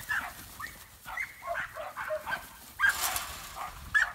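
A young herding dog on a farm gives short yips, whimpers and barks in scattered bursts, moderately close, with brief pauses between them.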